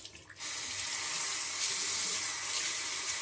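Water runs steadily from a sink tap, a close, continuous hiss that starts abruptly after a brief moment of quieter handling.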